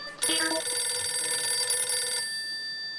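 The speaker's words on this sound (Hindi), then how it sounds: "अरे हाँ दया का फोन आया था बीच" A bright electronic ringing starts abruptly and holds steady for about two seconds before fading, like a phone ring tone.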